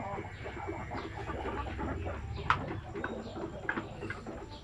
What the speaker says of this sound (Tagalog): So dito naman yung mga dumalaga na mga manok